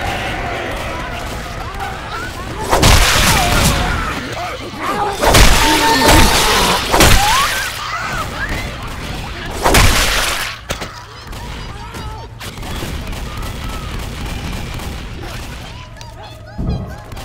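Grenade blasts and crashing impacts in Left 4 Dead 2's Dark Carnival campaign, several loud bursts with broad crackling debris over a few seconds, mixed with game chatter and gunfire-like noise.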